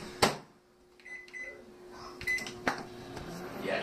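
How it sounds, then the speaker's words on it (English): A microwave oven heating a burrito gives sharp clicks and a few short electronic beeps over a low steady hum, close by with no talking. "That's microwave oven."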